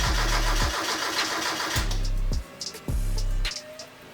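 A Mazda Miata with a coil pack wiring fault cranks after a jump start, several rapid starter bursts that catch into a rough, loud engine idle, recorded close by with no talking.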